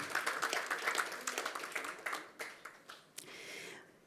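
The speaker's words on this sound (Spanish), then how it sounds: "Un aplauso para Claudia." An audience at a regional education ministers' panel claps, starting as a dense round of applause and thinning to scattered separate claps before it fades out.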